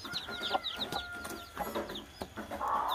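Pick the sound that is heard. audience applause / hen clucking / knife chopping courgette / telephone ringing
hen clucking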